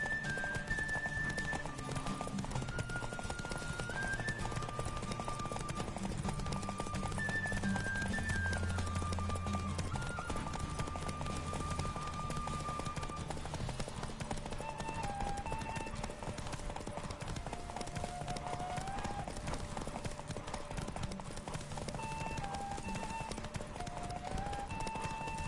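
Hooves of Roach, the horse in The Witcher game, clip-clop continuously at a running pace beneath a melodic in-game music score, the beat steady and evenly loud throughout.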